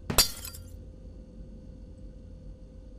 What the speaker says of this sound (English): I love breaking glass.